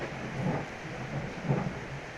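Steady rain hisses continuously while low rolls of thunder rumble twice underneath it, fairly soft and distant.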